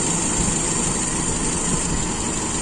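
A motorcycle engine fitted with an Aisan carburetor idles roughly and close up, a steady, loud, buzzing drone that runs on without talk as it is about to stall.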